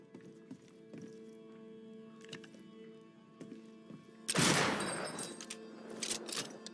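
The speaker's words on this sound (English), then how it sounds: "what was that gunshot?" A gunshot in the video game Banishers cracks loudly and suddenly partway through, trailing a noisy burst, after a quieter stretch of game sounds with faint clip-clop and soft tones.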